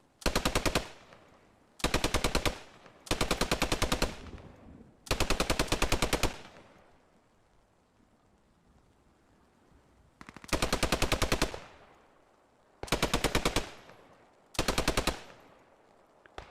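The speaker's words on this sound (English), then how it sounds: "we've got an American bar putting down some fire here" An American Browning Automatic Rifle fires in a realism-event war game, loud close bursts of automatic fire in about seven clusters, with a quiet pause of several seconds midway.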